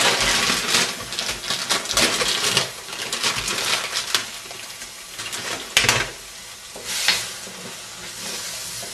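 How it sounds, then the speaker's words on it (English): Wine splashed into a hot pan, ready for frozen beef mince for a chilli, gives a loud burst of broadband sizzling that flares several times and then settles into a steadier, quieter frying hiss. "I'm just going to add a dash of wine, so there's a bit of lubrication for the mince"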